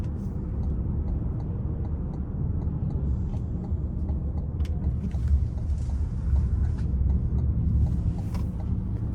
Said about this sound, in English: I am gonna put it in sport and try to floor it getting on the interstate here in a minute